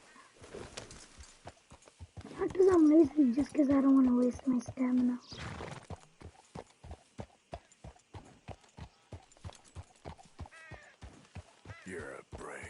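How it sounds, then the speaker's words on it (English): Horse hooves clip-clop in steady, evenly spaced beats while a horse is ridden in Red Dead Redemption 2, close and distinct, with a person talking quietly over the first half and a horse snort in the middle. "I'm just gonna take my freaking horse."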